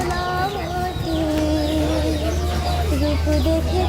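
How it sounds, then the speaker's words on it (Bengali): Native chickens and roosters cluck amid a busy village market in Raipura, Narsingdi, Bangladesh, with steady hum, chatter and other birds mixed in the background throughout. "এখানে আছে দেশি মোরগ"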